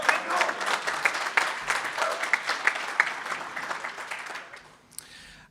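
Club supporters of the Backline Collective cheer and applaud at the 2022 MLS MVP award ceremony in Nashville, with dense clapping and crowd noise that holds loud for about four seconds and then thins out.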